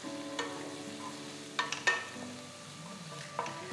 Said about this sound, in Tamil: அடுத்து 1 வெங்காயம் பொடியாக நறுக்கினதை சேர்த்து 1 நிமிஷத்துக்கு வதக்குங்க